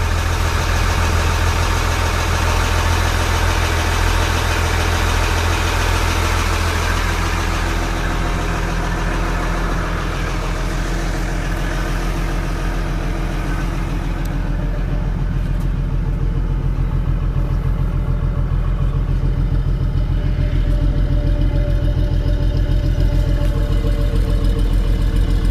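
A trawler's marine engine idles smoothly and steadily, heard from the deck as a continuous low, even rumble with no talk over it.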